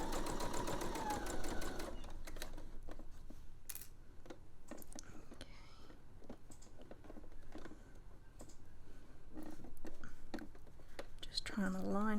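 Sewing machine stitching a door snake draft excluder, its motor whirring in short bursts of rapid stitching near the start and intermittently after, under quiet talk from someone guiding the fabric.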